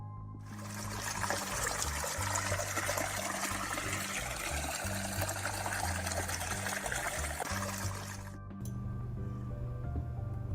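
Water from a seep at a pipeline construction site flows in a steady, loud trickling rush for about eight seconds, then cuts off abruptly, leaving a low background hum.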